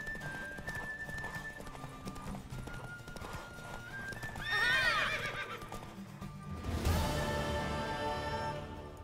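A horse in The Witcher 3 video game clops along at a steady gait, then lets out two loud whinnying neighs, the second one strong and close, with soft background game sounds.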